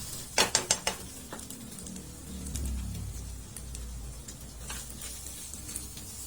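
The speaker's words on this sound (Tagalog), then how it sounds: "Igisa lang natin yan for at least 1 minute." Pork sisig sautés in a pan while a utensil stirs it. A few sharp metallic clinks and scrapes come first, then a soft, steady sizzle with occasional light scraping underneath.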